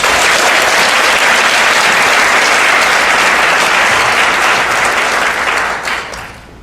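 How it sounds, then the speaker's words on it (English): Loud, dense applause from a large crowd at a presentation in Denver, sustained for several seconds before tapering off at the end. "Give yourselves a huge round of applause."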